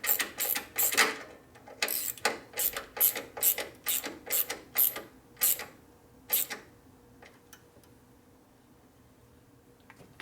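A ratchet clicks in a dozen quick, crisp bursts while tightening a part on a 1967 Harley-Davidson 74ci shovelhead FLH, close and fairly quiet, then slows to a few final strokes and falls silent.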